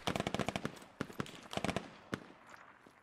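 Gunfire from several weapons in the Squad shooter game: rapid bursts of loud, close automatic shots in quick succession, followed by a few scattered single shots fading out.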